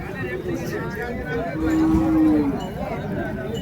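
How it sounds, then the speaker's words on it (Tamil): A pair of bull calves at a busy cattle market give a single drawn-out moo near the middle, set against steady crowd babble and speech. "காளை கண்ணுங்க ஜோடி எடுத்துகிட்டு வந்திருக்காங்க விற்பனைக்கு"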